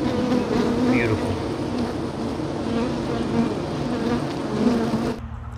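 Honeybees inside an active hive make a dense, steady buzz close up, a loud and continuous drone that drops off abruptly at the end.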